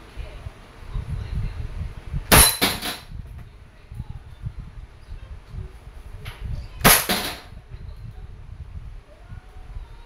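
Umarex Glock 17 Gen 5 pellet airgun fired twice, each shot a sharp crisp crack several seconds apart, close and loud over low rumbling background noise.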